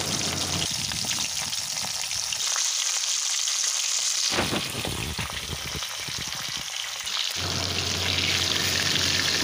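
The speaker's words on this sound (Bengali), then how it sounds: "এবার সব কটা মাছ এক একে তুলে দিচ্ছি ভাজা হওয়ার জন্যে।" Steady loud sizzling of hilsa fish frying in hot mustard oil, with crackles and a few clinks of pieces being placed, continuing throughout.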